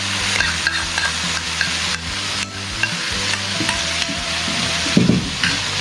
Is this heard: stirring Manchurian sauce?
yes